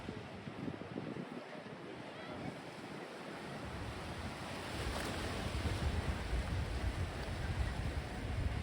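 Ocean waves wash onto a natural black sand beach on the bay at La Arena, Tenerife, a steady rushing surf heard from a distance and mixed with wind buffeting the microphone, growing slightly louder toward the end.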